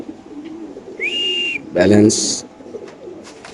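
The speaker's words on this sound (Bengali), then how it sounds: "এখানে আছে এক জোড়া খুব সুন্দর টাইগার গ্রিজেল কবুতর" A pair of tiger grizzle pigeons at a bird sale coo briefly, a short cooing burst near the middle, while people talk close by.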